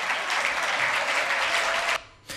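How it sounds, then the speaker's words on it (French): A televised event audience applauds loudly in a dense, steady burst of clapping that cuts off sharply near the end, leaving a brief quiet before a short final flicker of sound. "Je vous demande de l'applaudir bien fort."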